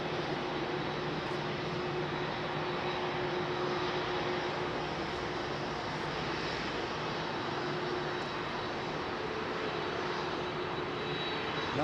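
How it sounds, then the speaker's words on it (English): Gulf Air Boeing Dreamliner jet engines rumble steadily while the aircraft lines up on runway 27 right at Heathrow, a continuous broadband roar heard from a distance with faint tonal whine on top. "Gulf Air Dreamliner lining up for 27 right."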